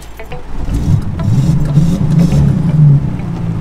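A Jeep engine struggling at idle in the rain, a loud, uneven low rumble that rises and sags as if about to stall, heard close with no talk.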